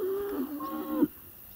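A bull out at pasture gives a short, low moo lasting about a second, faint and somewhat distant, before the sound drops to quiet background.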